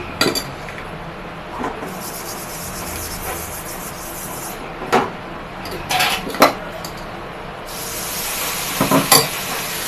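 Appam batter poured into a hot pan sizzles with a steady frying hiss, broken by sharp clinks of a ladle against metal and a louder hissing burst near the end.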